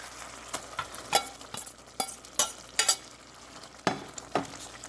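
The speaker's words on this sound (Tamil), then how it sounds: "இப்போ பாருங்க நல்லா கொதிச்சு கொண்டு வந்துட்டுது" A pot of dal and spinach greens bubbles and pops at a boil, with scattered sharp blips and an occasional light clink over a quiet simmering hiss.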